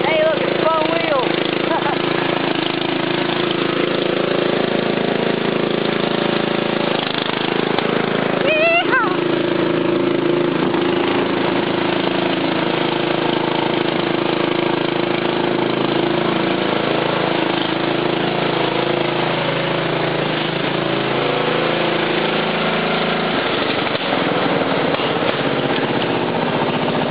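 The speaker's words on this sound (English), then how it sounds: "Kind of think he's backfiring." A Craftsman lawn tractor engine runs steadily and loudly throughout, close by, with occasional irregular pops, while someone talks over the drone.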